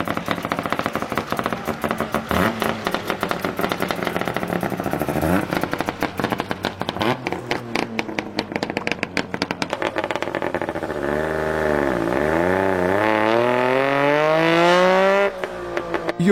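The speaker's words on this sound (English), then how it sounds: "This is how a 2-stroke Saab 96 sounds like" A two-stroke Saab 96 engine revs hard, a buzzy, crackling ring-ding note with rapid popping, then climbing and falling pitch sweeps as it accelerates and shifts, loud and close with no talk.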